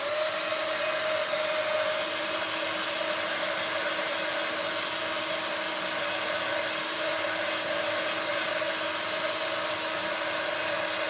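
A handheld heat dryer blows steadily on an inked spinner card, a constant close whirring roar with a fixed motor whine that holds unchanged throughout, with no talk.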